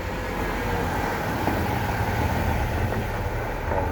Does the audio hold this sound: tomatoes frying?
no